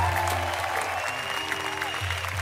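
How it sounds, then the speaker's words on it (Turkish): A studio audience on a Turkish talk show claps steadily, a dense, continuous wash of applause with a low hum running under it, moderately loud throughout. "Alkışlarla"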